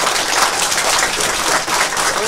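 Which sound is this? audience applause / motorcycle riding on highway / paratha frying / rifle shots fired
audience applause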